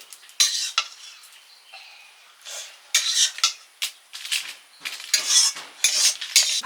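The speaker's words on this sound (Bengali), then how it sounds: "আলু ভাজাটা নিয়ে নিচ্ছি" Intermittent metallic scraping and clinking of a utensil against a pan as fried potatoes are served, short bursts separated by brief pauses, close by.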